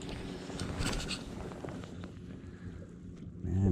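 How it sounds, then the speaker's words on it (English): Wind gusts over an open reservoir on a cold day, rising and falling as a soft broadband rush with buffeting on the microphone. It stays fairly faint and steady, with no voices. "Wind picks up and drops and picks up and drops."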